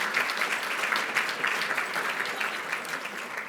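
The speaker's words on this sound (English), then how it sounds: "So one more round of applause for all the students." An audience at a university conference panel gives students a brief burst of steady applause. The clapping is moderately loud and even, with no voices over it.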